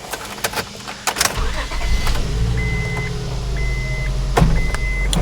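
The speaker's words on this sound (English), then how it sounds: "Let's crank our van." A 2004 Honda Odyssey van with a rough-running engine cranks briefly after some clicks and rattles, then starts and settles into a steady, close idle hum.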